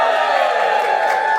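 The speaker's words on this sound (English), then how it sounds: "Just give us a cheer if you are a supporter of West London Welcome" Live audience at a London podcast recording cheering and whooping loudly in a dense, sustained burst, close and filling the room.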